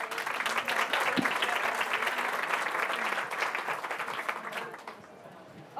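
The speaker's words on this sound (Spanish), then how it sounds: "Así que un aplauso para Ariane." Audience applause for Ariane before a cake shop demonstration class, a full, steady clapping crowd that holds for several seconds, then fades and tails off into near quiet.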